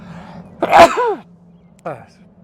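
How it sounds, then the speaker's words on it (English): A single close, sharp sneeze bursts out, followed moments later by a short, muffled vocal sound over a steady low hum. "trying to fight off a sneeze"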